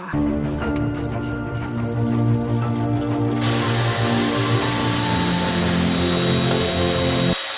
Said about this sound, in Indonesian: Waktunya kita semprot pakai epoxy primer.